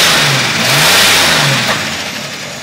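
A 1992 Chevy S10 pickup truck's engine revs up in a loud, close swell, holds, then eases back toward a rough idle, with some ticking from slightly out-of-adjustment rockers.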